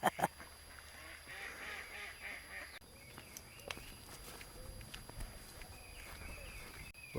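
Outdoors, a flock of geese and other fowl honk and call in scattered bursts, some near and some distant, over a low background rumble with occasional thumps.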